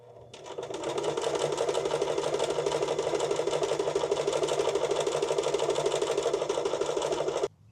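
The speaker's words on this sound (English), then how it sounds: "So I think we should at least sew the tube that goes around this together" A sewing machine stitches a fabric tube together, starting up and running in one fast, even, rattling whir for about seven seconds before stopping abruptly, close and clear with no voices.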